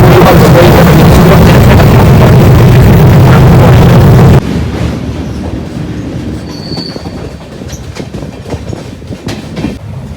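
A train arriving at a station rumbles loudly with rattling wheels and clatter, then the roar drops off abruptly and a quieter rolling noise continues with a brief high squeal.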